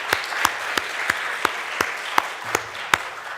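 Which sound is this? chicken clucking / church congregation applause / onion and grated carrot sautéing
church congregation applause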